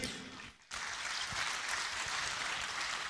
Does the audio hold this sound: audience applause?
yes